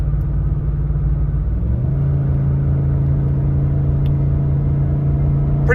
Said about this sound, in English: you'll get a feel for what the engine and the transmission are doing.